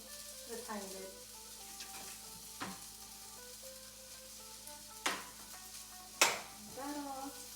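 A bagel fries in a little olive oil in a pan, giving a steady broadband sizzle with a few sharp clinks of utensil against pan, and some faint voice-like sounds in the background.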